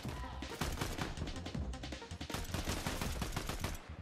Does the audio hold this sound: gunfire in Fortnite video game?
yes